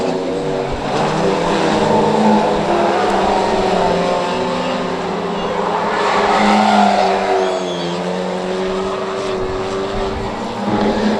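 Pro Stock race cars at the Cowdenbeath Racewall oval roaring around the track, a loud sustained engine drone swelling and fading as cars pass down the straights and through the bends, with no speech.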